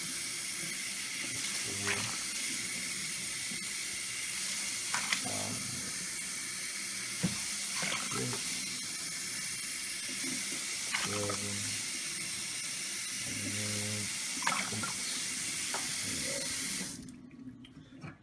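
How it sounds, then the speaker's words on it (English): Tap water pours steadily into a cooking pot for rice in a home kitchen, a constant close hiss that runs under brief talk and stops near the end. "So we're doing about 4 cups of water, or 4 cups of rice, so 8 cups of water in there."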